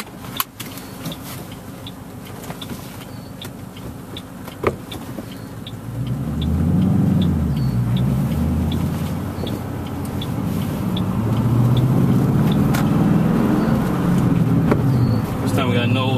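Ford Mustang SLP driven with both windows partly down: quiet cabin ticks at first, then the engine note swells into a loud, steady low drone with wind rush for the rest.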